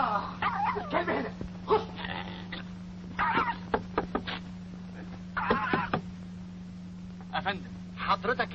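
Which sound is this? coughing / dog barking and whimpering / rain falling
dog barking and whimpering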